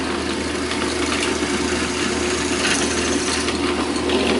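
Continuous grinding whir of a drill boring a hole through wood for a scissor mechanism template, steady and close, with no pauses.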